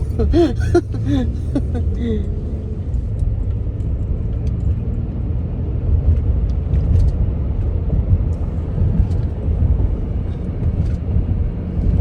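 Steady low road rumble and engine drone fill the cabin of a moving car. A few voices talk briefly at the start, then the even road noise carries on alone.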